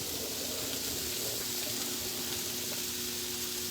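Corned beef hash with potatoes cooking undisturbed in a pan, a constant, even sizzle with a faint steady hum behind it.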